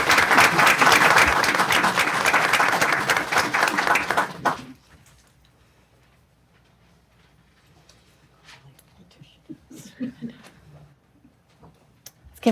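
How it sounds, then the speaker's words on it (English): A crowd at a school board meeting claps steadily for several seconds, then the applause ends abruptly, leaving a quiet room with a few faint rustles and knocks. "Let's give them one more round of applause."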